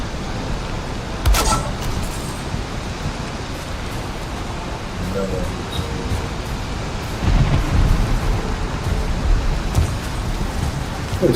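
Steady rain hiss with low thunder rumbles, including a heavier roll late on, in a night-time rainstorm in the Valheim video game, continuous and fairly loud with no talk.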